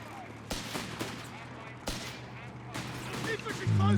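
Gunfire in the game Company of Heroes 3: sharp rifle and machine-gun bursts crack out at irregular intervals, a few strong isolated shots among quieter fire, with a commentator talking over the battle.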